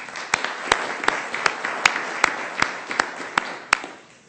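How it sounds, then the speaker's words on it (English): City council audience giving a round of applause at a 1992 Sioux Falls informational meeting, a small crowd clapping steadily with sharp individual claps standing out, moderately loud and fading slightly at the end. "if we could give you a round of applause"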